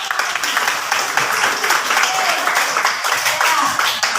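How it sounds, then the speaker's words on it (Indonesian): Classroom applause from students during a school lesson, steady dense clapping that fills the whole stretch at fairly close range, with a few voices mixed in. "Berikan tepuk tangan lagi."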